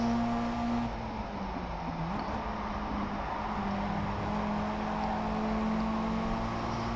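Race cars at the FIA Motorsport Games Goodwood event run in close side-by-side traffic, a steady loud engine drone with a sustained tone that dips and recovers as they pass, continuous throughout.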